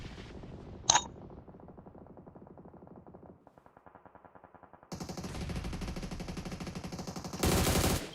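Gunfire in a battle royale esports match, with a sharp shot early, then steady rapid automatic fire at moderate distance, fading to a quieter stretch before louder bursts return near the end.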